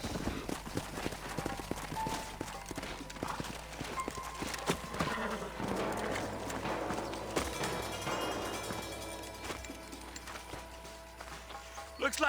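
Horse hooves clip-clop steadily in Red Dead Redemption, with an occasional whinny, mixed under game music and background effects, moderately loud throughout.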